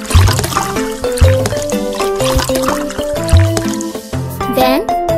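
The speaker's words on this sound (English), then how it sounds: "let's give the puppy a shower" Cartoon shower water splashes and trickles while a puppy is rinsed in a kids' pet care video game. The bubbly pouring sounds repeat in short bursts under bright game music, and a voice speaks over them.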